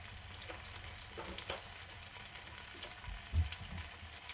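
Rice for Spanish rice sizzles and fries in oil in a pan, a quiet steady crackle with occasional scraping stirs and a soft thump near the end.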